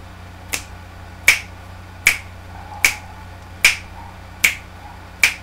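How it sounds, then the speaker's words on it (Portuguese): Finger snaps keeping a steady beat for songwriting, seven crisp, sharp clicks at an even pace of roughly one every 0.8 seconds, close and clear against a quiet background. "você pode usar o estalar de dedos"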